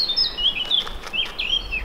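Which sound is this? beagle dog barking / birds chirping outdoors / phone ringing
birds chirping outdoors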